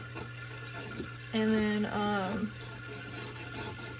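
Water splashes and pours in a saltwater estuary aquarium tank holding mangroves and a crab, a steady gurgling stream in the middle of the clip over a constant pump hum, with a voice speaking briefly.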